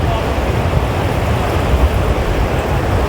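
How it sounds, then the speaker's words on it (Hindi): The Astore river rushing along a mountain road, a steady dense roar of fast water close by, loud and unbroken. "पानी का अच्छा खासा शोर है यहाँ पे।"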